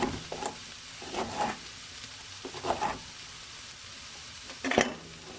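Chopped carrot and potato pieces tipped into a cooking pot for seafood chowder and stirred, giving a few soft scraping, rustling bursts spaced apart, moderately close and fairly quiet, with no talking.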